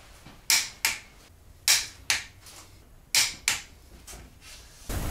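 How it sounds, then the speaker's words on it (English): Torque wrench tightening cylinder head bolts to 54 foot-pounds on a VR6 turbo engine build, three pairs of sharp clicks spaced evenly, close up with no talking. "Go back to number one, set torque wrench to 54."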